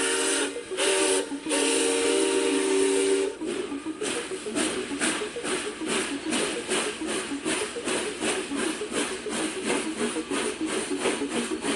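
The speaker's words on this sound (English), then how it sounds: "Oh, did you hear that? We better get on the train." A steam train lets out a long, loud whistle, followed by a steady rhythmic hiss and chuff of escaping steam that carries on close by.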